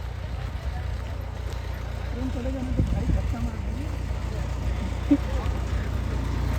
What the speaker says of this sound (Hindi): ट्रेन देखो, स्वराज वाला ट्रैक्टर।